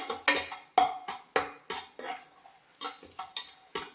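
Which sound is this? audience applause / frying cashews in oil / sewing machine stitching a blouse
frying cashews in oil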